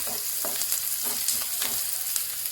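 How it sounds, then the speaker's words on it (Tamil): Onions deep frying in oil in a pan for spinach kadayal, a steady close crackling sizzle with faint stirring taps, no talking. "ஆனியன் கொஞ்சம் டீப்பாக ட்ரை ஆகி வரணும்."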